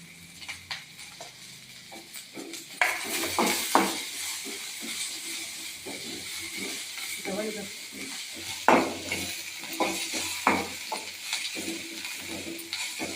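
Mutton chops frying with green chillies in a pan, Maratha style, a low sizzle broken by repeated stirring scrapes and utensil knocks, with a voice talking over it.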